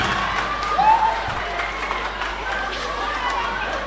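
A crowd applauds steadily at a school excellence awards ceremony in Dahra, Djolof, with scattered cheers and chatter mixed into the dense clapping throughout.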